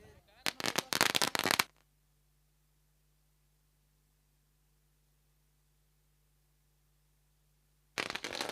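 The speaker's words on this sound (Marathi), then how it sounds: "तर या फटाक्या होत्या" Firecrackers set off at a village cricket tournament match give a loud burst of rapid crackling pops at the start, then long quiet before another crackling burst begins at the end.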